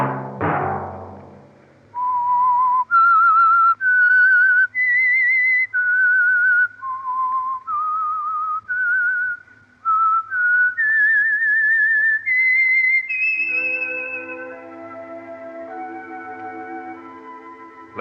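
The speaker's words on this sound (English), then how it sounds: "Let that whistle be your signal for the Signal Oil program, The Whistler" A lone whistled melody, the theme of The Whistler radio show, clear and close with sustained, sliding notes phrase after phrase. A brief thud opens it and soft orchestral chords take over at the end.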